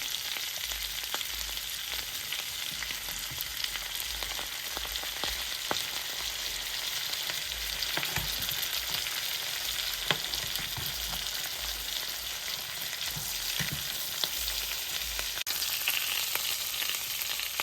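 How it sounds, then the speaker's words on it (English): Salmon sizzling in butter in a pot, a steady, close frying hiss with small crackles and pops throughout, no voices. "I'm just gonna add the salmon to it, so the salmon can have that nice buttery flavor."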